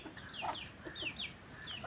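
Soft clucking and high peeping calls from a hen and chicks, scattered and close, over a low background murmur.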